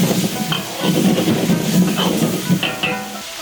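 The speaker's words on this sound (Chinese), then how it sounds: "翻炒均匀" Cured fish tossed in a wok with a little water, MSG and pepper, giving a steady moderate sizzle with scraping stir strokes throughout, close and continuous.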